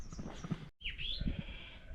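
Sheep out in the hot sun along the West Highland Way bleat faintly from a distance, one wavering call near the middle standing out over soft outdoor ambience.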